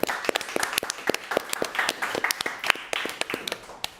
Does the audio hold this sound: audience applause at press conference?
yes